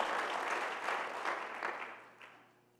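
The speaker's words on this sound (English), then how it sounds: "Clap your hands to the Lord." Church congregation clapping hands together during a sermon service, a soft, dense wash of many hands at a distance that fades away toward the end.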